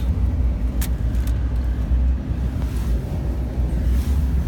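A Chevy with four-wheel drive rolls along a cold winter road, its steady low engine and tire rumble mixed with wind buffeting throughout, with no one talking.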